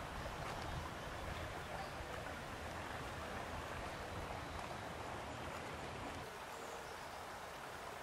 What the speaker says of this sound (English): You hear the water, but you can't hardly see it.